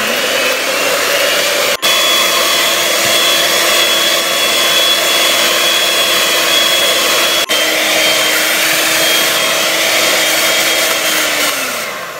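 An electric mixer whips egg whites with sugar for a Christmas tree cake, a steady loud motor whine running continuously and close before winding down at the end.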